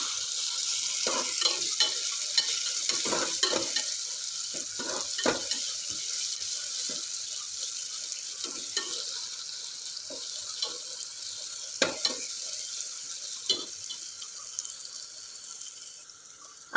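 Chopped coriander sizzles in hot tempering for dal khichdi while a spoon stirs it, giving a steady close frying hiss broken by repeated scraping clicks against the pan. No one speaks.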